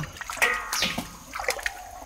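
Blanched ingredients for Buddha Jumps Over the Wall being rinsed in water, a close, continuous splashing and sloshing with irregular surges over about two seconds, no talk.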